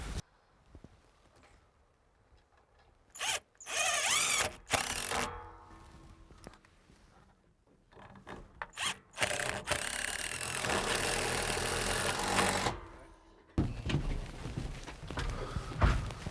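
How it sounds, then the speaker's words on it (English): A power drill drives screws to fix a roller tube above a window for a shade installation, with several loud whirring bursts of varying length separated by quiet gaps and small handling knocks. "I'm going to screw it right into place right there"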